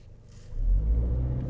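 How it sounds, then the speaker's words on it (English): A 2023 Toyota Tacoma pulls away hard from a standstill in a 0 to 60 run, its engine rumble swelling from near quiet into a deep, loud, steady drone with no speech. "Let's try a quick 0 to 60 to find out."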